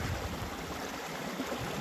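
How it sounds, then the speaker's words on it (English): A stream's water rushes and gurgles in a steady, close, fairly loud wash of sound, with no voices over it. "the sound of water like this would have made me nervous"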